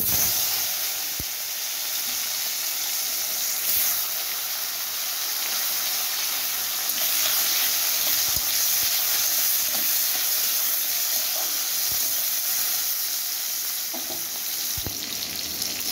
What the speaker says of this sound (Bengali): তেলটা গরম হয়ে গেলে আমি প্রথমে একদম হালকা করে পটলগুলোকে ভেজে নেব।